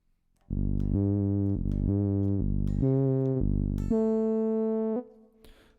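A synth-like guitar tone with filter key tracking plays a few sustained notes, each pitch stepping higher up the neck and brighter as the filter opens, ending in a decaying note.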